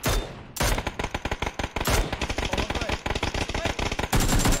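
Rapid bursts of automatic gunfire in a video game crack loudly and nearly continuously, broken by a couple of short pauses, with occasional single heavier shots.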